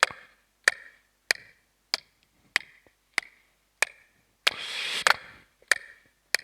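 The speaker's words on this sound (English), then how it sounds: "it's a string of beads that you can click together" A string of worry beads clicks together in sharp, evenly spaced snaps, about ten close dry clicks with one brief burst of hiss midway, alone in a quiet room.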